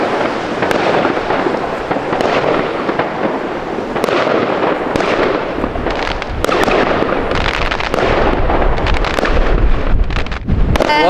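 New Year fireworks burst over central Copenhagen, a loud crowded barrage of cracks and booms with wind buffeting the microphone throughout.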